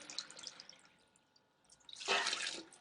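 Water is tipped into a pollard and chick crumb mix for fly breeding. Faint drips come first, then a short, louder splashing pour near the end.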